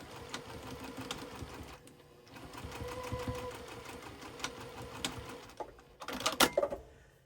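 Sewing machine stitching a quarter-inch seam on a mini fat-quarter fabric basket, a steady close mechanical whirr through most of the clip with a brief pause, then sharper clicks and a quick burst near the end.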